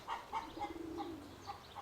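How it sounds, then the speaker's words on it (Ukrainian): Soft, close pigeon coos repeat in a gentle rhythm, about six low throaty calls from pigeons kept in a loft on a house, over a quiet background. "Я вже почав відкривати отих голубів"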